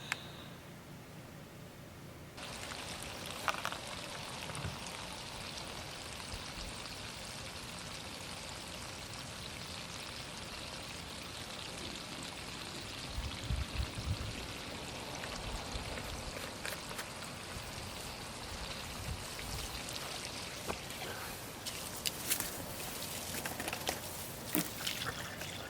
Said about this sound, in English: I will go out and fill up that water tank and dump about a cup of bleach in there